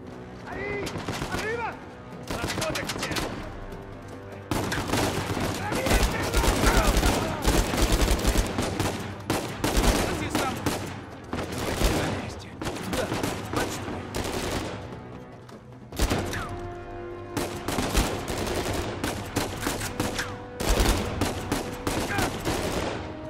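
Dense bursts of gunfire and automatic weapon fire from the Uncharted: Legacy of Thieves Collection video game, loud and sustained with brief lulls, mixed with game music and shouted voices.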